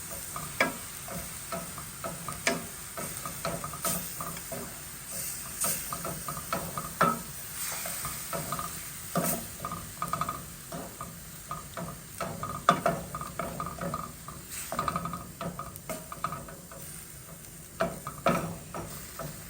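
Ground beef sizzles and fries in a pan while being stirred for pasta stuffed shells, a steady close hiss broken by repeated scraping stir strokes.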